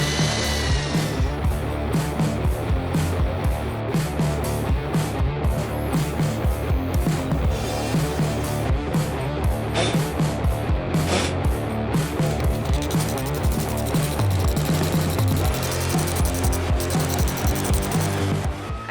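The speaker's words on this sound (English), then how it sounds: "we're going to use lag bolts, and so that means I'm going to have to do a little bit of drilling first." Power drill boring holes for lag bolts in a pallet barn build, a continuous loud whirring grind with rhythmic pulsing load changes lasting the whole stretch, no talking.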